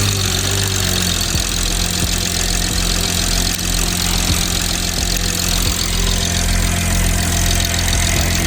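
Steady idle from a BMW 440i engine just fitted with new injectors and high-pressure fuel pump, a close, even running hum with faint ticking and no speech.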